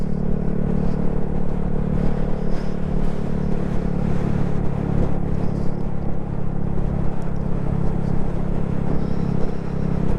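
A Honda Grom motorcycle rides slowly along a road, giving a steady low engine rumble with road and wind noise throughout and no clear revving.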